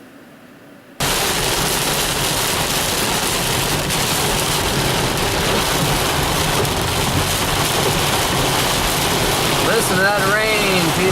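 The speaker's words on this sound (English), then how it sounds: "Listen to that rain, people." Heavy downtown rain bursts in after a second of near silence, then holds as a loud, dense, steady hiss of pouring water on surfaces for the rest of the stretch.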